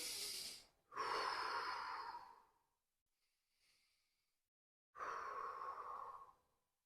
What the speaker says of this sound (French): Prenez 3 grandes respirations profondes